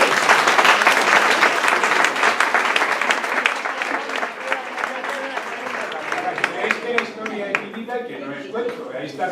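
A crowd at a 500th-anniversary family surname gathering breaks into sustained, dense applause that slowly loosens into distinct claps, loud and close, with voices mixed in.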